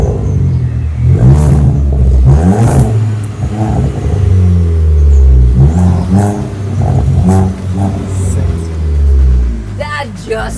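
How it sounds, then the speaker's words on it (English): A custom exhaust on a Volkswagen Polo GT barks through repeated loud engine revs that rise and fall, close by, while people talk excitedly over them. "We need a rev."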